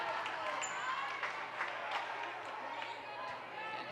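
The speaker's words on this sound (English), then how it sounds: "Wow, and there's a crowd here." Crowd noise at a high school volleyball game between Park Center and St. Louis Park, a steady wash of cheering and chatter from the stands with scattered claps and shouts, moderately loud throughout.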